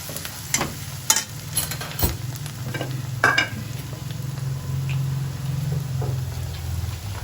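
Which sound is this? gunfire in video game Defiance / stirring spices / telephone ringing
stirring spices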